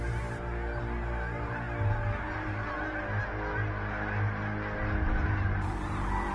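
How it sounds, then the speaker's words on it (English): Geese honk steadily in a rural feeding field scouted for a goose hunt, the calls layered and overlapping at moderate distance over a low background hum, with no talking. "scouting for the geese feeding areas"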